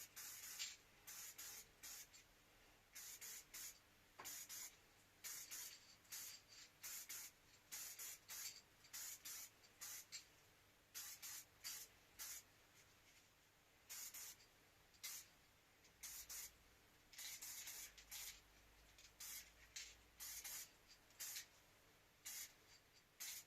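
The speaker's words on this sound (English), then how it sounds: "let's chuck some paint on" Short, close bursts of aerosol spray paint hiss onto parts of a Honda CB250RS motorcycle during restoration. The bursts come in an uneven rhythm of quick puffs and longer passes, quiet overall, with brief pauses between them.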